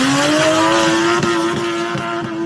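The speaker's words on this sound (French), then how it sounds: "tu viens tirer, bah, et après, tu pars en dérapage" Hyundai i30N with a 310 hp engine sliding in a handbrake drift, a loud steady high tire squeal with engine drone close up, sustained for the whole moment without voices.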